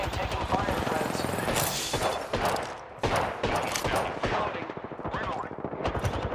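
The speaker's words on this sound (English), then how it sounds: "I am taking fire, friends." Incoming gunfire in a squad-based shooter game, dense volleys of close, loud rifle and machine-gun shots cracking in rapid bursts almost continuously, with a player speaking under the shooting.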